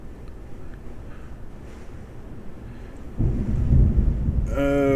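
A deep low rumble of thunder surges in during a heavy rainstorm with wind, swelling loud over a steady wash of rain, while a tonal beeping sound briefly cuts in near the end.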